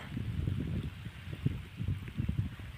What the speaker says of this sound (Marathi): बघू शकते आता ठिबकच्या नळावर पाऊस पड राहिलेला आहे पाऊस चालू झाला